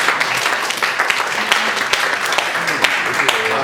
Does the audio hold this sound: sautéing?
no